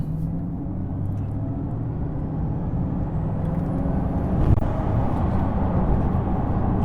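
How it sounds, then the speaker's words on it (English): A Bugatti Chiron's turbos wind up over a steady low engine drone, the roar building gradually and staying loud and continuous throughout, with a faint rising whine high above. "you just hear the turbos wind up"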